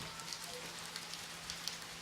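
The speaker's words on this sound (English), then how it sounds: "you guys can probably hear the rain because I had my window open" Rain falls outside an open window indoors, a steady soft hiss of drops with a few brighter patters, faint and even throughout.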